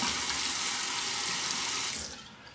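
Running tap water pours steadily into a sink as a straight razor is rinsed after shaving stubble, a close, continuous broadband rush that tapers off near the end.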